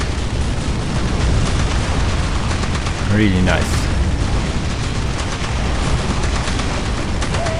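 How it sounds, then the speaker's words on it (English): Chem cannon fire in the Warhammer 40,000 strategy game Dawn of War, loud booming blasts and rumbling battle noise continuing throughout, with someone talking over it. "Now it's a chem cannon."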